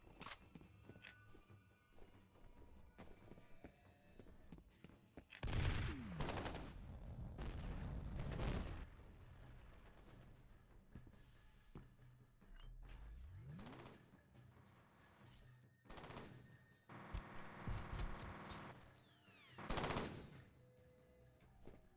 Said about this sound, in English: Don't like the shooting in this game.